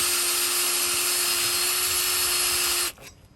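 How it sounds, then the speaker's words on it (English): A drill spinning a wire brush attachment over brake parts during a brake overhaul gives a steady, loud, close whir with a constant pitch for about three seconds, then cuts off. "we're gonna come behind it with a wire brush as well"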